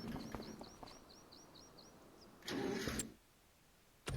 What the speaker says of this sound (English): Got a good startup sound too.